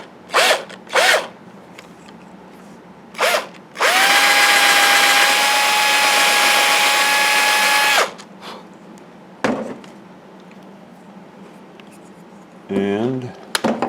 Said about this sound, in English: drill me a hole right here in the center